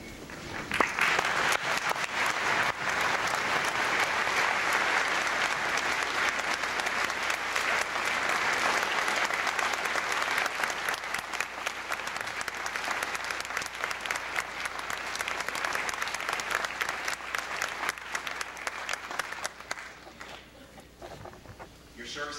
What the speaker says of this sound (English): all the audience thank or join me in thanking them with applause